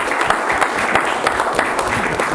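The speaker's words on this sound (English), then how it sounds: "let's give them a big round of applause" Steady applause from the audience at a City of San Juan commission meeting, a dense wash of clapping filling the room at a fairly close, even level throughout.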